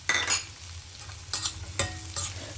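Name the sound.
small onions frying in coconut oil with ginger and curry leaves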